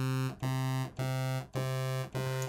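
Two sawtooth waves on a HALion 7 synth drift out of phase, giving a sustained buzzy tone that swells and dips in a slow, regular throb with brief dropouts.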